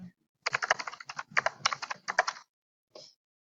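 Quick, close bursts of keystrokes on a computer keyboard as a name and date are typed into a form, a run of about two seconds followed by a short pause and one last brief flurry.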